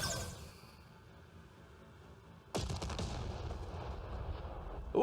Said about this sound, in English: We're firing those missiles at very long ranges.